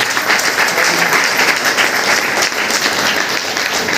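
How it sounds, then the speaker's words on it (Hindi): A meeting audience in Basti claps loudly for Agarwal sir. The applause is dense and steady, fills the room and carries on without a break, with no voices over it. "अग्रवाल सर के लिए भी एक जोरदार ताली होनी चाहिए"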